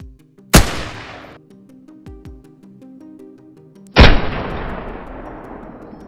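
Two sharp, booming gunshots ring out during a wild boar hunt. Each blast decays into a long rolling echo across a valley, over a soft sustained musical drone.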